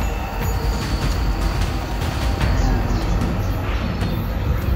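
A train pulls into a Tokyo station, with a loud, continuous rumble of wheels and carriages and faint high metallic squeals over the steady roar.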